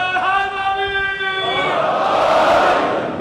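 A speaker's amplified voice at a Muharram majlis gives way to a loud crowd shouting slogans in unison, which swells and holds for a couple of seconds.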